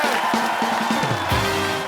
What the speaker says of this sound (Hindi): फरा मैम के लिए जोरदार तालियां।